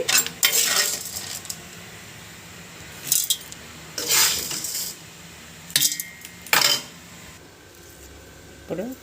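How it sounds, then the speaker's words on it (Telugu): Roasted, cooled peanuts tipped into a mixer jar for peanut chutney, giving several short clattering, rattling bursts of nuts hitting the jar, separated by quiet gaps, close and fairly loud. "ఈ పప్పులు తీసి మిక్సీలో వేసుకోండి"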